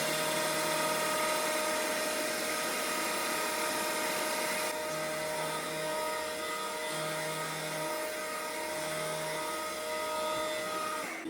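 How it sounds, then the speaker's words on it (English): A milling machine cuts a 3D printer hotend part to final length, giving a steady, high mechanical whine with a constant hum underneath and a few short, lower tonal pulses in the second half. "we're gonna mill that to final length, then drill 5 holes in there"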